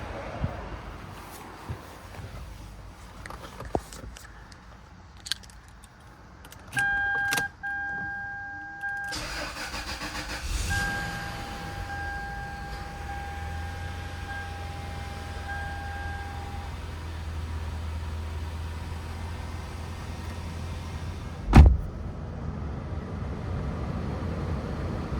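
A 2003 Lexus LS 430 V8 gets a cold start: door and cabin clicks and chimes first, then the starter cranks and the engine catches into a steady low idle, with one loud thump near the end.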